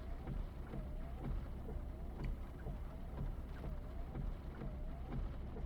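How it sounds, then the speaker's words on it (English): Heavy rain pours steadily in the Final Fantasy VII video game, a dense continuous hiss with low rumbling underneath and no speech. "It sure is raining hard."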